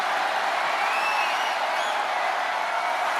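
Arena crowd in the WWE 2K25 video game cheering at a steady roar, a dense, constant wash of noise from a capacity audience that holds level throughout with no gaps, with no talk over it.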